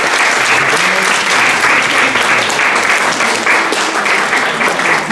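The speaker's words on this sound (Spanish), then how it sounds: "Un fuerte aplauso para la doctora." An audience applauds a doctor introduced as speaker at a university talk on muralism, with dense, loud clapping that holds steady for several seconds.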